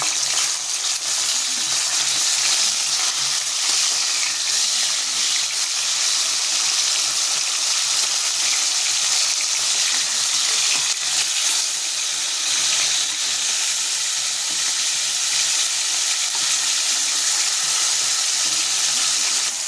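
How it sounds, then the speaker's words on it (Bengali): Bhola fish frying in a pan with a steady, close hiss of sizzling oil that runs without a break, with faint clinks and stirring as the fish is turned over. "আমি এটা উল্টিয়ে দেবো মাছটা"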